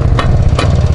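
A 1975 Izh Planeta 3 motorcycle engine runs just after starting, with a loud, close, low rumble and a rough pulsing beat.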